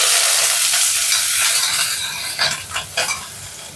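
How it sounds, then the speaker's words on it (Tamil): Crushed onion, garlic and curry leaves sizzle and fry in a pan, with a steady broadband hiss and a few sharper stirring scrapes toward the end, close and loud with no talk. "வெங்காயம் பூண்டுலாம் வதங்கிருச்சு"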